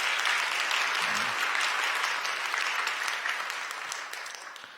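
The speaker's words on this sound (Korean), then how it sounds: "여러분들 환영의 박수 부탁드립니다." A church congregation applauds in welcome during a Sunday service, giving a dense, steady wash of many hands clapping. It holds strong, then slowly fades toward the end.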